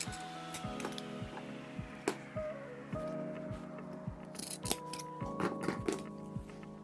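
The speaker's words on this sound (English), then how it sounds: "I'm going to go in with my shears, cut up to my mark, then I'm going to use my snips" Fabric shears and snips cut cloth for a welt pocket, with repeated crisp snipping clicks in a regular rhythm close by, set against a faint steady hum.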